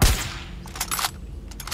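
Gunfire in Far Cry 6, one sharp loud shot at the start followed by a few quieter rapid bursts and echoes.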